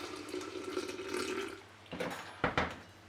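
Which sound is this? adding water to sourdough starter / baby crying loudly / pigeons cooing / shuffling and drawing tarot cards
adding water to sourdough starter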